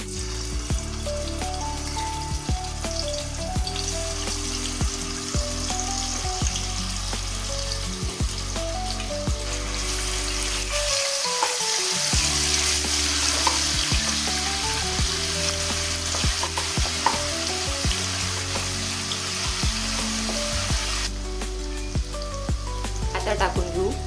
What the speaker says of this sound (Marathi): तेल गरम झाला आहे, यामध्ये टाकू आपण अद्रक लसणाचा पेस्ट।